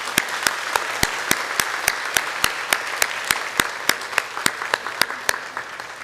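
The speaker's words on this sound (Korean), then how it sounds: "우리 인사할 때 박수로 함께 축복해 주시고 환영해 주시기 바랍니다" Church congregation applauding to welcome a new pastor's family during a Sunday worship service: steady sharp rhythmic claps, fairly even and close, continuing throughout without talk.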